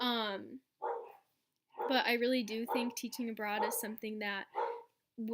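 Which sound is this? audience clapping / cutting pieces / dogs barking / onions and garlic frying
dogs barking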